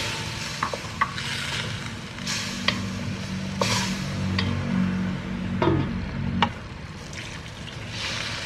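Tomatoes sauté in a pan over browned bits of garlic and onion, with a steady sizzle and a spoon scraping and knocking at intervals, plus a low hum in the middle stretch.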